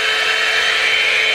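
A Joyyum hot air brush hair dryer runs steadily up close, giving off a continuous airy whoosh with a high whine that stays level for the whole short stretch, and no one speaks over it.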